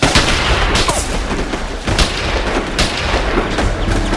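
Rifles fire at a night shooting range, a dense, loud run of overlapping gunshots with sharp cracks recurring over a continuous booming din.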